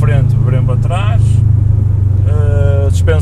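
A Subaru Impreza STI tuned to 350 hp and 420 Nm, fitted with a mandatory exhaust line, idles with a deep, steady, close rumble that runs throughout while someone talks over it.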